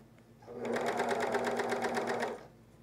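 A coverstitch machine sews fold-over elastic on a camisole, a steady fast mechanical needle chatter running for about two seconds close up, starting and stopping cleanly in a quiet room.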